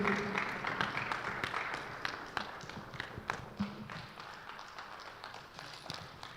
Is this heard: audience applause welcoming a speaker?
yes